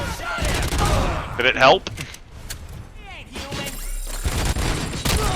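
Bursts of gunfire and mechanical clanks from the Robocop: Rogue City game, shots and impacts scattered through the clip, mixed with a brief spoken question.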